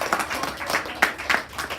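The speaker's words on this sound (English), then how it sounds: "let's all give them a round of applause before they even come up" A small audience at a public speaking school event gives brief, scattered applause, a short burst of uneven claps.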